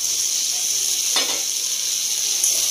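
Raw prawns hit hot oil in a pan while cooking a prawn malai curry, giving a steady, bright, close sizzling hiss with a brief sharper burst as they go in, and no voices.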